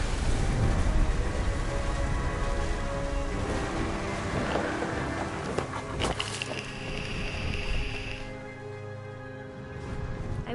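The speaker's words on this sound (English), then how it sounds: "The thunder sounded much too close and full of angry power." Heavy rain pours during a thunderstorm in What Remains of Edith Finch, a dense continuous roar with rolling thunder and a sharp crack midway, fading to lighter rainfall.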